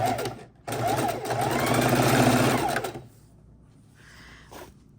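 A sewing machine stitches quilt border strips in one steady whirring run for about three seconds, with a rapid needle chatter close by, then stops, leaving quiet room tone and a faint brief noise.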